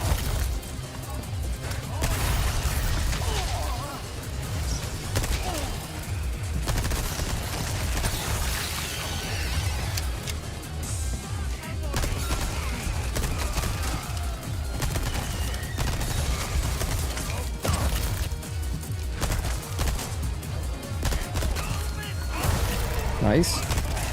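TMP submachine gun fire in Resident Evil 4 Mercenaries mode: rapid, near-continuous bursts of shots and impacts run throughout, with a person talking over the gunfire much of the time.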